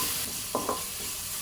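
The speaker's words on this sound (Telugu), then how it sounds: "దీన్ని మనం మంచిగా ఫ్రై చేసుకోవాలి పచ్చివాసన పోయే వరకు." Green chillies fry and sizzle in a pan with a soft, steady hiss, broken by two quick scraping stirs of a spoon near the middle.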